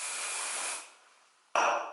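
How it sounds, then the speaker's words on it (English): Hairspray from an aerosol can misted onto styled hair in a steady close hiss, fading out, then a second sharp burst begins abruptly. "A little hairspray."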